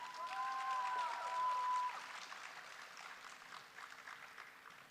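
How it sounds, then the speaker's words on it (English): At a live Bharatanatyam dance recital, a hall audience applauds softly and steadily, with a faint tonal sound over the first couple of seconds. "Let's give Avani another round of applause"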